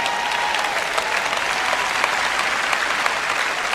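Audience applause at a sermon, a dense, loud, steady clapping from a large crowd filling the whole stretch without a break.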